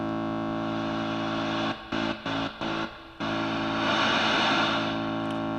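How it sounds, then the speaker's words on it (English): A buzzy, distorted drone from a microKORG synthesizer's white noise is chopped into a few stuttering bursts, then swells into a broad wash of hissing noise. "the noise level is going to sound kind of just like that white noise"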